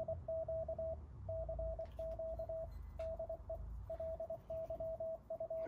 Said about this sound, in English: continuous calling CQ or imitating the heavy duty cycle Morse code work in the field